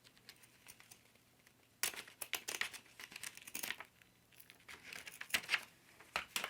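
Paper or tape being cut and crinkled while reworking an old craft journal page, with close, irregular rustling and snipping bursts that start abruptly after a quiet moment and continue in uneven clusters.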